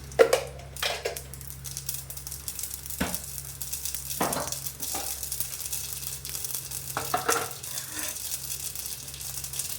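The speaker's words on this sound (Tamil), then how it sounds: "கடுகு மட்டும் கொஞ்சம் போட்டுக்கிறேன்." Mustard seeds crackle and sizzle in hot oil in a home kitchen pan, a continuous frying hiss broken by sharp irregular pops and a few clinks of a spoon against the pan, with a low hum underneath.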